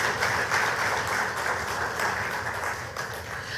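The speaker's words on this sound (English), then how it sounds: "Let's give them a round of applause" Audience applause at a formal event in Grenada, a steady, full wash of many hands clapping that holds throughout without pause.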